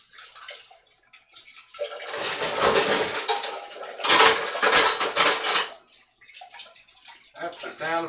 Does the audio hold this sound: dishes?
yes